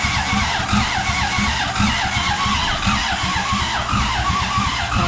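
A Toyota 1UZ V8 in an MX32 Cressida cranks and churns, a dense, rough mechanical noise with a fast, uneven pulsing rhythm that stays steady and fairly loud throughout, with no voices.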